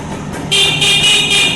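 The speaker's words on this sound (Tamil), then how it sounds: "ஹார்ன் வேலை செய்யும்." Horn of a 1995 Rajdoot 175 motorcycle, one loud, steady nasal beep lasting about a second, heard up close over a low background rumble.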